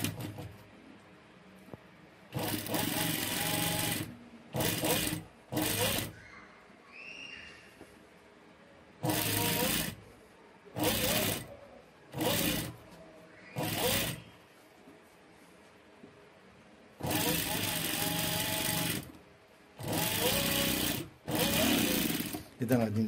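Sewing machine stitching the back piece of a lace wrap top, running in repeated bursts of steady rapid stitching, some long and some short, with quiet pauses in between and someone speaking at times.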